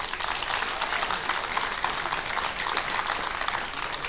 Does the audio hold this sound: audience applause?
yes